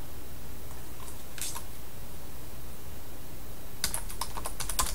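Keys clatter on a computer keyboard as a course name is typed. A short burst comes first, then a faster, denser run of keystrokes toward the end, close and with no voice.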